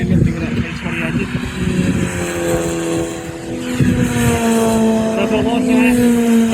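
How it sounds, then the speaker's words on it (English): A Honda Civic EP3 with a K20 engine on track at Donington Park, its engine note climbing and holding steady as it passes, with crowd chatter and other voices heard over it. "EP3 there, sounding really lifting with that K20 engine"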